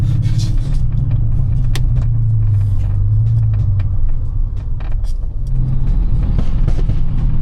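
Steady loud engine rumble from inside a Brabus Mercedes-AMG E63 S in normal mode, with deep low drone and occasional clicks and rattles, no clear peaks of revving.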